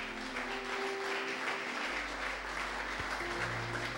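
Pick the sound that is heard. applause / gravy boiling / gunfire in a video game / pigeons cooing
applause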